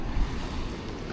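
Surf washing onto a beach at high tide, a steady broadband rush of water with wind buffeting the microphone, continuous and fairly close with no speech.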